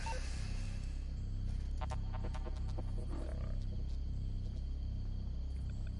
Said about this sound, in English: I heard the tiger.